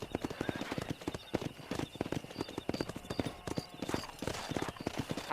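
Hooves of a galloping horse in Red Dead Redemption pound out a fast, steady clip-clop rhythm, close and clear, with faint game ambience behind.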